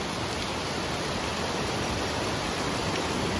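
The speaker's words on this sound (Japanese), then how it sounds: "錦江町にある小川の滝上流展望所というところに来ました。" Ogawa Falls, a roughly 50-metre waterfall into an emerald-green plunge pool in Kinko, Kagoshima, heard from an upstream viewing point as a steady, dense roar of falling water, loud and unbroken throughout with no voices.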